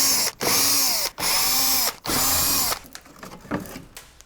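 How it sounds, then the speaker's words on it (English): Bolts come off the plastic fuel filter cover on a BMW F20 116d with a power drill in three loud whirring bursts separated by brief pauses, followed by quieter clicks and rattles of loose parts. "we need to remove all the bolts and take this plastic cover"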